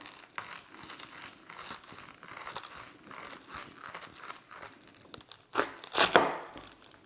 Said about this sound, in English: we're going to cut right through the middle